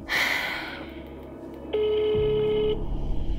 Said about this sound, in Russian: а что если мы реально позвоним, только с твоего номера?